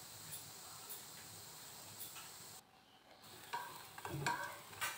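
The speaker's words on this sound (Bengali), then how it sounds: "মিডিয়াম ফ্লেমে একটু ভালো করে এগুলোকে ভেজে নিতে হবে" Puffed rice fritters fry in oil over a medium flame, giving a faint, steady sizzle with light crackles and a few soft stirring scrapes, no voices.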